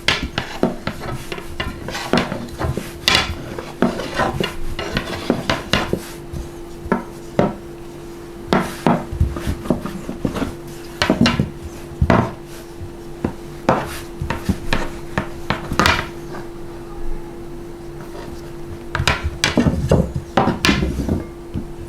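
A wooden rolling pin rolls out dough for homemade döner, producing repeated soft knocks and rubbing rolls in a steady, close, irregular rhythm with a faint steady hum underneath.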